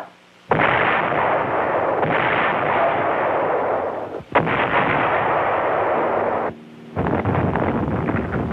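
Artillery gunfire from the D-Day campaign in Normandy, heavy sustained roaring blasts in long loud bursts, with short breaks between them.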